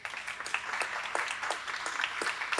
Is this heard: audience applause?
yes